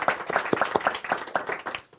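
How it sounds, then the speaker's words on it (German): Audience at a book reading breaks into applause, individual claps distinctly audible as a loose, moderately sized group clapping, fading toward the end. "das können wir ruhig mit einem Applaus machen"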